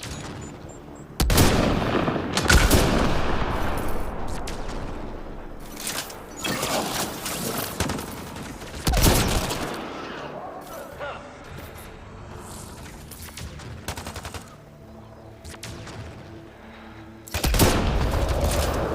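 Gunfire in the Mass Effect Andromeda video game: bursts of sharp shots and heavier booms arrive in several loud clusters separated by calmer stretches, with a voice speaking partway through.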